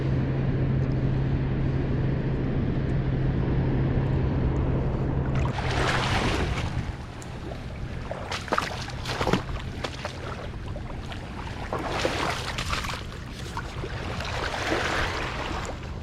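Boat wake from a passing vessel washes along a river bank, a steady wash of broadband water noise that swells into louder surging splashes midway and keeps lapping nearby without speech.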